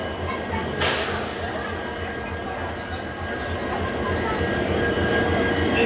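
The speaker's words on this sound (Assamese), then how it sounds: "ট্ৰেইন আহি পালেহি" A train pulls into a station on a journey from Guwahati to Barpeta, a steady close rumble with one brief sharp burst near the start and faint voices in the background.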